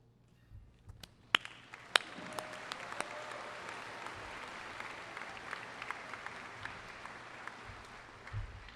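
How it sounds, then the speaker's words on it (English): A commencement audience at Ivy Tech Community College Richmond's 2019 ceremony bursts into applause after a few scattered early claps. The dense clapping builds and holds fairly loud to the end. "It's okay to clap whenever you want to"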